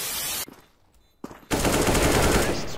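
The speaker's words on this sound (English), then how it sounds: "Stop shooting me!" Machine-gun fire in a video game, a loud sustained burst that cuts off abruptly, a short pause with a single shot, then another heavy continuous burst close up.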